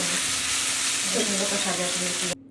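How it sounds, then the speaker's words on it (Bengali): Beef pieces for a biryani dropped into spiced oil, giving a loud, continuous sizzle with stirring scrapes in the pan before it cuts off abruptly near the end. "এখন মাংসগুলো আমি দিয়ে দিলাম ভালো করে নেড়ে চেড়ে নেবো"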